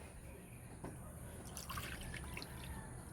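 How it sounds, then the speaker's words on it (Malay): Water poured into a pot holding thick coconut milk, a faint trickling and splashing that rises midway over a steady background hiss, with no speech. "Kita masukkan air, kita jangan buka api dulu"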